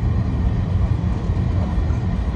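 A fully loaded 30-wagon freight train at Apapa Port gives off a loud, steady, dense rumble throughout, with no break or separate clanks standing out.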